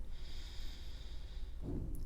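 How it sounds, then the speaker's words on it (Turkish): A deep breath drawn in during a guided breathing meditation, a soft, airy inhale near the microphone that swells toward the end. "Şimdi derin bir nefes alın."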